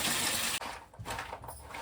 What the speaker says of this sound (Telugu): నీళ్ళు పట్టియమ్మా సగానికి.